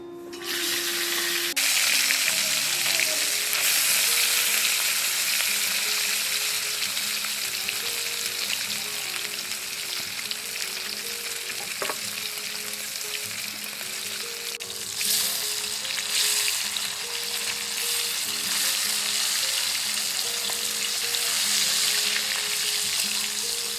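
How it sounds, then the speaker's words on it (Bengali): Mrigal fish frying in hot mustard oil, a continuous loud sizzle and crackle lasting many seconds with occasional bursts of spatter and brief clinks of a utensil. "এখন তেলের মধ্যে মাছগুলো দিয়ে ভেজে নেব"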